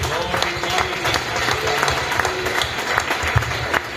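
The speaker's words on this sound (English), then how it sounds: "Let's all give one more time God a clap offering and thank God." A congregation at a Hindi Bible sermon gives a clap offering, a crowd of hands clapping steadily with some murmured voices mixed in, moderately loud and continuous for several seconds.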